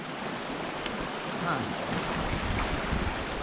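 A small river runs through rocks where waterfalls once stood below a dam, on a snowy outing. The water makes a continuous broad rushing wash mixed with gusty wind noise on the microphone, and a voice briefly murmurs.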